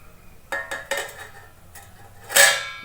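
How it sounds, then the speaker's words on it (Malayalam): A clean plate set down over a stove while making herbal kajal at home: a few light clinks and taps of crockery, then a brighter ringing clatter near the end, close and alone. "വൃത്തിയുള്ളൊരു പ്ലേറ്റ് എടുത്ത് ഇതിൻ്റെ നടുഭാഗത്ത് പുക തട്ടാൻ തട്ടിൽ നമ്മളിങ്ങനെ വയ്ക്കുക"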